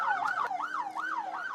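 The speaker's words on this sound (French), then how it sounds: "Une ambulance de secours médicaux en pleine intervention sur le site du Dakar de Médina Gounass" An ambulance siren wails with steady rising and falling sweeps, continuous and fairly close, as medical rescue crews respond at the Médina Gounass pilgrimage gathering in Senegal; no voices.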